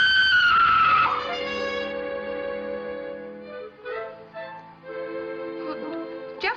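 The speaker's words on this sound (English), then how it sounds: "Somebody screamed." A woman's scream in a 1942 mystery comedy film rises sharp and loud at the start, then fades into sustained orchestral music with a few swells.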